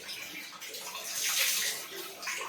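Steady running water from a geyser-heated tap pours while someone rinses mehendi from their hair during a bath, a continuous close splashing flow that swells briefly in the middle.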